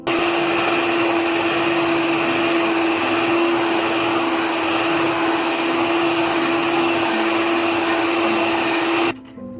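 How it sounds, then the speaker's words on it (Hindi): An electric hand mixer beats cake batter with oil added for a black forest cake, a steady loud motorized whir running unbroken for about nine seconds before cutting off at the end. "अब मैं इसको तकरीबन 30 सेकंड के लिए बीट करूँगी"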